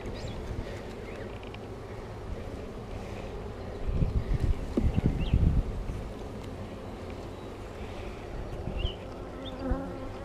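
Honeybees buzz in a continuous close drone during a hive inspection, with a few louder soft puffs of breath in the middle as air is blown over the frames, and no speech.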